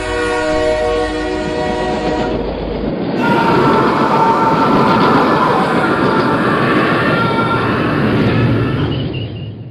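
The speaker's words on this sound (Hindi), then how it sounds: "ट्रेन आ रही है" A train approaches loudly: a long horn blast sounds first, then rumbling, clattering wheels roll past close by, with faint squeals as the noise swells and slowly fades.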